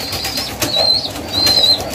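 Newly bought pigeons nearby, with soft low coos and bursts of wing flapping, plus a couple of thin high whistling tones over steady background noise.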